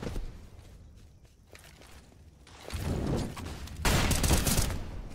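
Gunfire in Counter-Strike on the Ancient map during a professional match, a burst of rapid shots swelling loud at the end after a quieter stretch of faint in-game ambience and steps.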